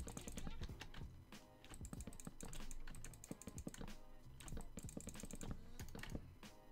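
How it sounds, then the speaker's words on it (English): Rapid computer mouse and keyboard clicks from building a house in Minecraft 1.13, a dense stream of sharp, close taps in irregular bursts filling the whole stretch. "Do you like hearing the mouse clicks?"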